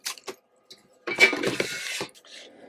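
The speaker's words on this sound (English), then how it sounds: "the printer head appears to be moving" Mechanical ratcheting and whirring of a Procolored L1800 DTF printer head moving along its carriage, a few short clicks followed by a steady run of about one second, close and moderately quiet.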